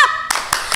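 Children clapping a clap chant at a Sunday school service, giving three quick, sharp claps in a rhythmic burst right after a brief tone.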